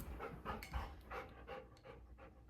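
Dogs panting quietly and rhythmically after a walk, a steady soft huffing close by with no talk.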